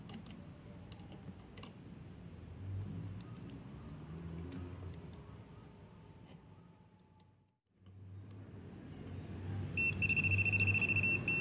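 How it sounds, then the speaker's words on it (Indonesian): A handheld voltage detector pen beeps while testing a live household power socket, a bright steady high-pitched tone emerging near the end over a low background rumble of traffic. "Dan voltage detector pun berbunyi normal, serta di layar indikator pun berwarna merah."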